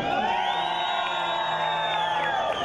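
Audience at a youth convite performance in La Reformita, Zona 12, Guatemala, cheering and shouting together, a steady loud crowd roar of whoops and yells lasting a few seconds.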